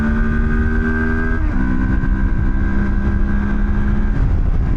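A Moto Morini X-Cape 700 motorcycle accelerating hard in second gear, a loud steady engine drone that climbs in pitch, dips briefly, then keeps rising under strong wind rush, with no talking.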